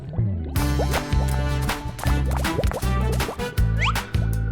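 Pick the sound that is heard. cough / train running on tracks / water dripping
water dripping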